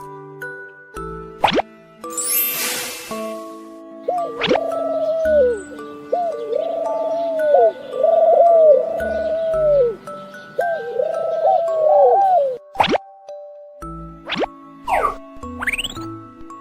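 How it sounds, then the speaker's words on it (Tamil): A white pigeon coos in a series of warbling, rising-and-falling calls, fairly loud and close, with sharp plopping and pinging effect sounds before and after. "அழகான வெள்ளை புறா எப்படி சத்தம் கொடுக்கும் குட்டீஸ்?"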